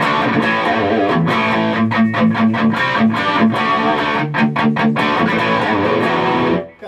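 A heavily overdriven electric guitar with low-output pickups plays through a Fender Bassbreaker 15 amp head, volume and master maxed and a touch of reverb added. Loud, sustained distorted chords and riffs run for several seconds, then cut off abruptly.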